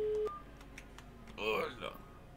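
Phone dialing tones in the Farming Simulator 22 video game: a steady tone cuts off, then a burst of warbling electronic beeps follows a moment later, with faint clicks between.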